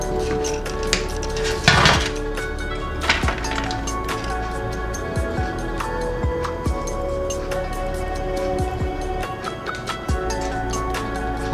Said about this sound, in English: I'm going to put in a baking roasting tray.